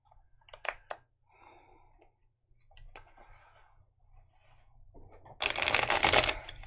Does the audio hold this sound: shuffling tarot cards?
yes